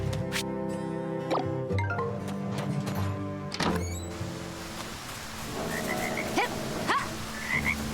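Frogs croak in Story of Seasons Grand Bazaar, a run of bubbly, repeated croaks with watery plops and drips, fairly close and filling the whole stretch, with no talking.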